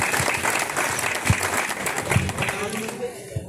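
A crowd at a village ceremony claps warmly to welcome a student who won admission to an institution, the applause dense and steady before thinning out, with a few sharper claps standing out.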